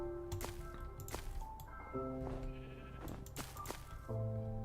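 Sheep in modded Minecraft bleat several times in a row, short wavering calls spaced across the moment, mixed with soft tapping and squishy game clicks at low volume and no talking.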